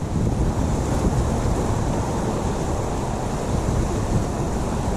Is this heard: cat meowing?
no